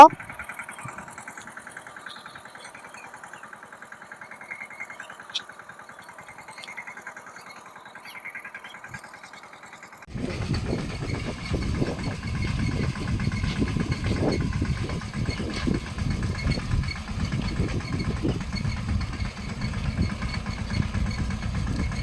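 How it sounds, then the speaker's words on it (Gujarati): A tractor engine used for ploughing in Mandvi chugs into a steady, close, rumbling idle halfway through, after a stretch of quieter outdoor background, with people talking nearby. "જો આ અમાર ટ્રેક્ટર આલે"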